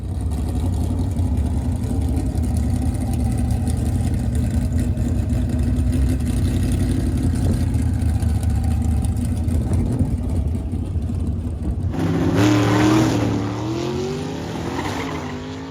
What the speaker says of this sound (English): Here's another stick shift 56 Chevy, this time in super stock trim.